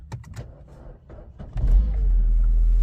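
A Mini that has sat parked for four months is cranked with the key, and after a brief whir the engine catches and settles into a loud, steady idle rumble close by.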